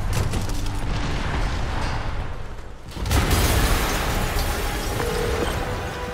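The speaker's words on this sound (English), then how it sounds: "an explosion just... I saw it." A video-game explosion in Spider-Man Remastered on PS5: a dense, continuous roar of rumbling blast noise that dips briefly, then surges back loud and sustained.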